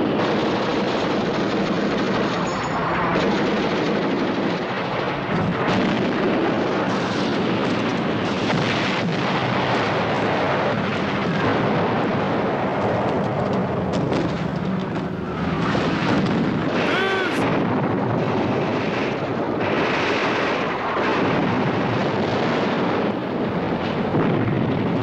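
Booming blasts and artillery-like explosions in a 1963 war scene, troops being blown off a hill, rolling and overlapping for the whole stretch with background battle noise.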